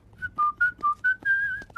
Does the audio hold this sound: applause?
no